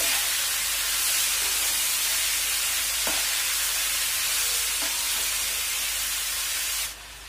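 Cabbage and chana dal go into a hot pan for cabbage palya, a loud steady sizzle and hiss with a couple of soft stirring knocks, easing off sharply near the end.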